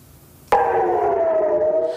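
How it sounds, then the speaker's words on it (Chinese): An air raid siren sounds in Kiryat Shmona, northern Israel. It cuts in abruptly after a brief quiet moment, then holds as a loud, steady wailing tone whose pitch sinks slightly. No voices are heard. "刺耳警笛响彻以色列北部基利亚特什莫纳地区"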